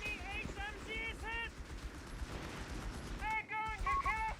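Machine gun fire from Vickers and MG42 guns in a war video game, bursts of rapid shots with harmonic whine tones in the first half, a lull, then more bursts near the end, under a speaking voice.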